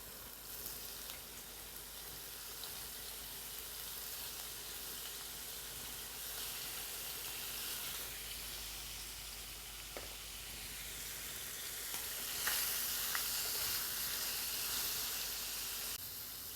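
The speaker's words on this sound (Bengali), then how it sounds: "পনিরটা আমি একটু হালকা করে তেলের মধ্যে নেড়ে নিলাম" Paneer cubes fry in hot oil and are gently stirred around the pan, giving a faint, steady sizzle and hiss. The sizzle swells slightly toward the end.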